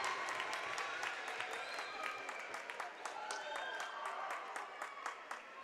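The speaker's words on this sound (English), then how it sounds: "The crowd loves it." A crowd applauds and cheers after a steal and foul at a girls varsity basketball game, Grace vs Nikiski, a dense burst of clapping with scattered shouts filling the gym, steady for several seconds at moderate distance.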